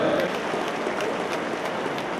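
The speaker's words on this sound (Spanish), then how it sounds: "siente el aplauso fuerte" Loud, sustained applause from a crowd at a government land-title handover ceremony for farmers in Michoacán, an even rain-like roar of clapping with no distinct breaks.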